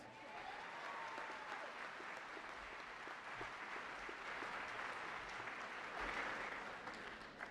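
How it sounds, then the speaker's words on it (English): Steady applause from a large graduation audience at East High School, continuous and even across the whole stretch, moderately distant and without a break. "Let's give Board President Van White a good round of applause"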